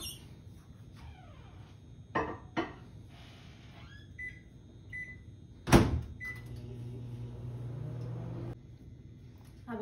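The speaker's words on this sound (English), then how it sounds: "let's stick this in the microwave for 45 seconds." A microwave oven heats a bowl of jalapeño cheddar popper filling, a low steady hum that carries through the second half, with a few sharp clatters and knocks before it starts.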